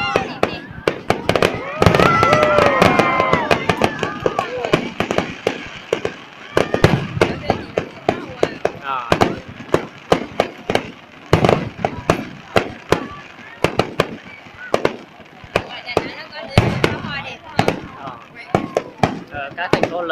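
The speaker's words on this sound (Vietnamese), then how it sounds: "Pháo đây chưa đẹp, pháo mà nó ra hình các con, các hình hoa." Fireworks go off in a long run of sharp cracks and booms at irregular intervals, loud and close, with someone talking over the barrage.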